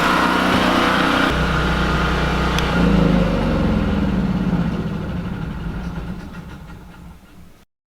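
A Cummins Onan 2500 LP propane generator runs steadily with a close, loud engine drone, then its noise fades gradually over the last few seconds as it winds down to silence.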